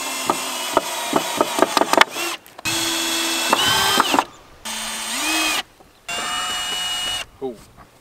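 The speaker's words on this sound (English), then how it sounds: "So it's just time to unscrew everything and put them in." A power drill backs screws out of ranch boards during pig shelter building, starting with a series of sharp clicks and knocks, then several sustained whirring bursts that rise and fall in pitch, separated by short pauses, up close.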